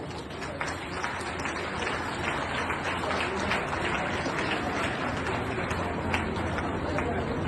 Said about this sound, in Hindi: जोरदार तालियों से एडीजे हेमंत जी रघुवंशी का हम अभिवादन करें।